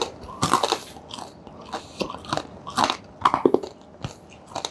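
Soft tack ship's biscuit with cheese is bitten and chewed close up, with repeated crisp crunching bites arriving in an irregular rhythm and no talking.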